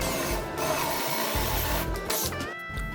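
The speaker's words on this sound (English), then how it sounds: "I had to use my drill and my router to create the 1-inch holes that are on the base plywood piece" A router and a drill cut one-inch holes in a plywood base piece, giving a loud, continuous high-pitched whine with brief dips and bursts as the bit bites into the wood.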